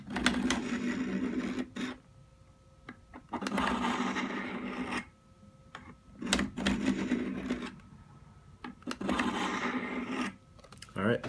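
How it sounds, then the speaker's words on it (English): Knife blade drawn in repeated passes across the coarse stones of a Spyderco Sharpmaker, a CRKT knife in abused condition; four long, steady scraping bursts separated by short pauses, close and fairly loud with no talking. "I'm just going to make a few passes on the coarse stones"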